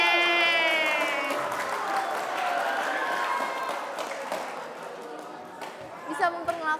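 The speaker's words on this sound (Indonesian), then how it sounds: "Tepuk tangan dong untuk teman kalian." A classroom of high school students applauds a classmate, with steady clapping and cheering that gradually fades, and voices mixed in.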